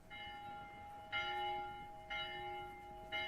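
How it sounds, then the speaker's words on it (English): A town hall bell rung by rope, used as an effect in a reading of a radio drama, with three slow, resonant strikes about a second apart that each ring on and fade. "Who pulls the town hall bell rope but blind Captain Cat"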